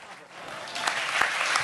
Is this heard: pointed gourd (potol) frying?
no